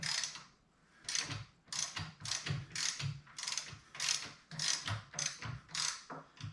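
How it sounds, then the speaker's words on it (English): Ratchet tightening a bolt on a Harley Davidson Dyna Wide Glide while installing a reduced-reach kit, about a dozen evenly paced bursts of clicking, close and distinct with no talk. "we're going to get it most of the way tight, not all the way."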